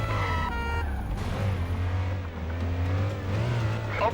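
A car races during a police chase ending at the edge of a massive drop in the video game Stuntman. Its engine drones steadily and close, its pitch rising and falling with revs, without pause.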